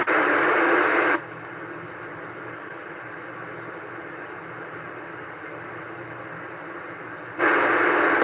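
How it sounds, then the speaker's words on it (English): A keyed ham radio carrier on an amateur net check-in with no modulation: a steady, flat hiss of open-channel noise holds for about six seconds, framed by louder bursts of static at the start and end. "There's a dead key. No audio."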